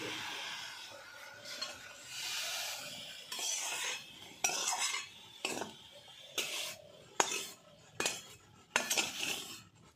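Boiled bottle gourd leaves are ground by hand on a flat stone grinding slab, giving repeated rough scraping and rubbing strokes in an uneven rhythm, close up, with light clinks between strokes and no talking.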